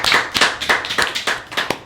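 Audience clapping for departing guests on a live French local show in Amiens, a short burst of brisk, fairly close hand claps with an uneven rhythm.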